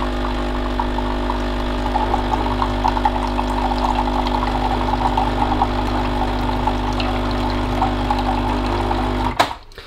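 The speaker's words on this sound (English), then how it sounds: "you just put this to the left, and this will be cold water coming out" Nescafe Dolce Gusto Mini Me coffee machine running its pump to dispense cold water, a steady loud motor hum with a gurgling trickle that continues evenly before cutting off abruptly at the end.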